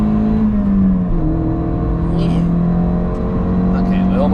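Toyota Yaris T Sport with a 105 hp naturally aspirated engine revs steadily on the Nürburgring, a loud, sustained in-car drone that shifts pitch with gear changes while someone talks over it.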